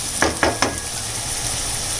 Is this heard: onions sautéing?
yes